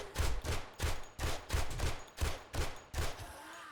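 Gunfire in a modded 7 Days To Die match: about eight evenly spaced, punchy shots fire in a steady rhythm, each with a short boomy tail, fairly close and with no talk over them.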